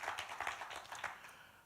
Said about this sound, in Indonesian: Ayo tepuk tangan bagi dia, saudara.